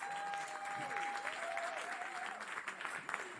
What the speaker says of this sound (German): Ein großen Applaus